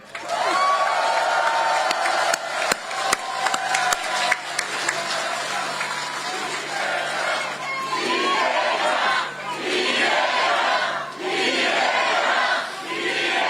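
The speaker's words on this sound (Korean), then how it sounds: "여러분의 이웃들한테 옆을 돌아보면서 박수 한번 쳐주세요" A large outdoor election rally crowd in front of a traditional market in Dangjin breaks into waves of clapping, cheering and shouting, loud and close, following a stretch of amplified speech.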